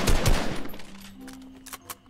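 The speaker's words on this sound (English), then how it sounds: "Oh, who's shooting me?" Gunfire aimed at the player in a Fortnite-style squads battle royale game, a rapid burst of loud close shots at the start, then scattered fainter shots and game sounds.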